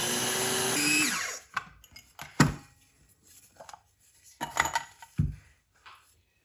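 A kitchen mixer grinder whirs loudly while grinding soaked lentil batter for dahi vada, then cuts off after about a second, followed by sharp clanks and knocks of the jar and utensils in a quiet room.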